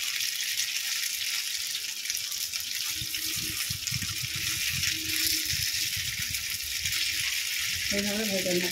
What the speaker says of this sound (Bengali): এইভাবে ভেজে নেব।